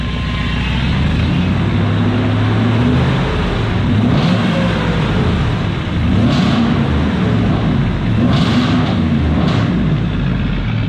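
A supercharged 5.4L engine in a 2002 Ford F-150 Harley Davidson edition revs loudly and steadily nearby, rising in several bursts over a constant idle rumble, with no talking.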